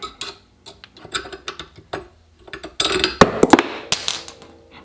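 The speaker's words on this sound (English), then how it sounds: "The little bolt handle comes out. The bolt is now free." Bolt handle being pulled out of a Ruger 44 carbine: a close series of small metallic clicks, ticks and creaks, with a denser burst of scraping and rattling toward the end and no voices.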